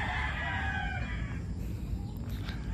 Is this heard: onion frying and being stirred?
no